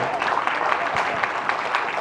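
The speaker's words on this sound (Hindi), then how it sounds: "जोरदार तालियां बजा दें।" An audience at a Hindi poetry performance claps in a dense, continuous burst, individual hand claps standing out close by amid the steady roar, with some murmuring mixed in.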